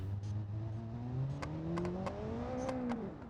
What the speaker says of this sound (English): Lots of like backfiring, lots of cracks and burbles and stuff like that.